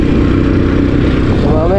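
Steady low drone of a motorcycle engine riding out of Barangay Bukana toward Batangas City, loud and close with constant rumble, a voice talking over it.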